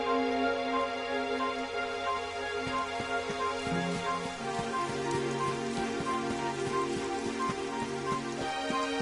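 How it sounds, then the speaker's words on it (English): Continuous patter of rain falling on a surface in the video game Dragon Quest XI, over a low, steady musical backdrop, with no voices. "It would have to go and start raining."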